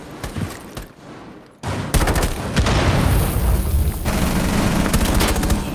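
Gunfire in Rainbow Six Siege, a few scattered shots followed by a loud, sustained burst of rapid automatic fire that dominates the rest of the moment.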